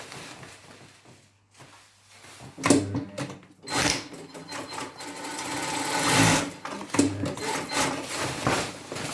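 A sewing machine running down a coverall trouser centre back seam in short bursts of stitching separated by pauses and fabric handling clicks, close and fairly quiet.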